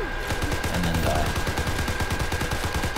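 Call of Duty: WWII gunfire, a steady stream of rapid shots at moderate loudness running throughout with a faint background tone.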